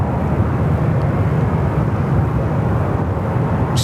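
A fixed-wing airliner flying near Sydney Airport, swinging around to join final for runway 34 left, gives a steady, continuous broadband engine roar that holds loud and even throughout without any talk.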